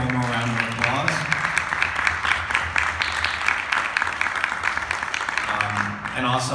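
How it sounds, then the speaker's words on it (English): An audience at a film festival panel on Prometheus applauds the panelists, a dense sustained clatter of clapping over the whole stretch, with a voice heard speaking at the start and end. "give all of our panelists up here one more round of applause"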